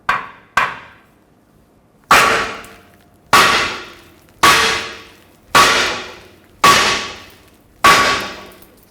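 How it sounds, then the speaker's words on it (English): Hammer blows smacking a front lower ball joint loose on a 2014-2019 Toyota Highlander, seven sharp metallic clangs at a steady pace, each ringing and decaying briefly, loud and close with no talking. "we're going to smack right here with a hammer until this pops out"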